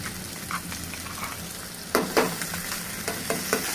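Spices and coconut-poppy seed paste sizzle in hot oil while being stirred, with a soft continuous fry broken by several sharp scraping stirs of a spoon against the pan, close up and without talk.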